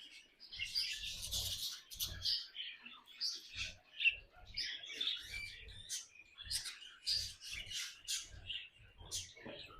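Domestic birds kept in an enclosure give repeated sharp squawks and chirps in irregular bursts, fairly close, with faint speech-like sounds between calls.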